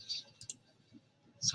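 A few sharp computer mouse clicks while working in wall-framing design software, close and faint, with a short quiet gap between them.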